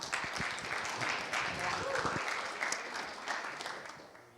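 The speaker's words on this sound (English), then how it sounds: "Let's give him a round of applause." An audience at a 1 Million Cups Orlando entrepreneur gathering claps for a speaker named Mike coming up, a sustained round of applause with a few voices mixed in, fading slightly toward the end.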